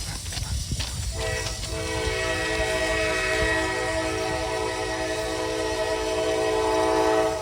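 A freight train at Elkhart sounds a long, loud, sustained horn chord as it comes in close, with rumbling rail noise and a brief clatter beneath and no talk.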